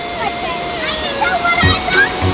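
Water rushes and splashes at a waterfall near Mauli fort, a constant broad wash with bursts of nearby splashing as voices talk over it.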